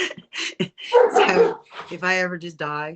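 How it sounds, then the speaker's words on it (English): A large dog barks and yips in the background behind a person talking, with a few sharp, fairly loud bursts mixed in among the speech. "That's the dog behind us."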